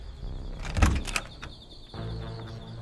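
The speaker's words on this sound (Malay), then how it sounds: "Sampai bilik, perlahan-lahan aku buka pintu." A door is slowly opened, producing a creaking, scraping movement with a couple of sharp knocks in the middle, followed by a low rumbling hum. It is moderately loud and has no speech over it.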